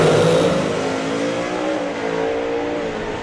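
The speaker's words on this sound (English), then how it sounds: "Harry dials the 6 flat, which is the quickest you can dial in Super Pro, even though this is a 570 capable car." A Super Pro drag race car, a 570-capable machine, roars loudly at launch with a dense, sustained engine howl that stays close and powerful, with no talk over it.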